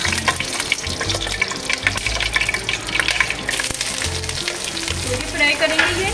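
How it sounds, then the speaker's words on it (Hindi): Semolina (suji) frying for halwa, a dense, loud, continuous sizzle with stirring scrapes throughout and no talk. "सूजी फ्राई करेंगे,"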